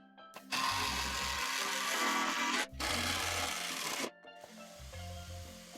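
A power drill driving screws into a wooden wall, two long loud whirring bursts of the motor separated by a brief pause, then a quieter follow-on burst, close and with no talking.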